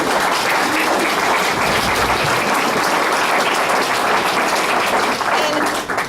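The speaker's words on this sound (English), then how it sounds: "You all deserve a wonderful round of applause." Loud, full applause from an audience at a public meeting about a north–south rail link, sustained and thick from start to finish before easing off at the very end.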